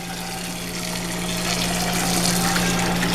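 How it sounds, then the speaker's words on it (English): Hot water pours steadily into a burnt cooking pot, a constant rushing gush over a low hum that grows slightly louder as it fills. "And then add more hot water"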